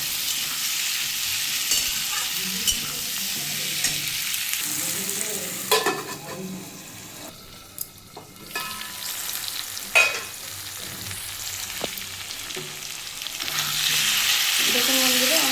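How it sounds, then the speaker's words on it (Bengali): Potatoes, onion and tomato frying together with turmeric and salt in a covered pan, a steady close sizzle with occasional stirring knocks and scrapes, no talking. "সামান্য একটু হলুদ আর সামান্য একটু নুন দিয়ে আমি চাপা দিয়ে ভেজে নেব।"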